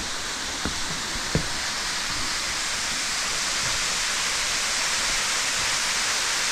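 Waterfall in Dismals Canyon, Alabama, a constant broadband rush of falling water that fills the scene evenly, with a couple of faint knocks early on and no speech.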